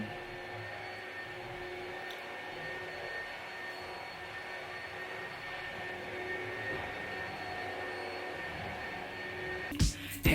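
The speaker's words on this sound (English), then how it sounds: "Somebody decided that today was the best day to vacuum at this time" A vacuum cleaner runs somewhere in the background of a quiet indoor room, a steady, muffled whirring drone that holds evenly throughout, with a couple of brief knocks near the end.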